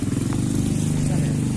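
Motorcycle riding slowly along a badly damaged road in Way Kanan, Lampung, with a steady close engine putter throughout, under talk.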